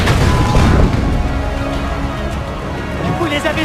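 Cannon fire in the video game Assassin's Creed Brotherhood, a loud booming blast at the start followed by rumbling battle noise and scattered impacts, with game voices heard over it.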